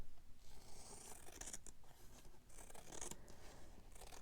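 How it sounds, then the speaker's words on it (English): Scissors snip through fragile paper in a few quiet, close cuts with soft rustling between them, no talking. "I'm going to cut it."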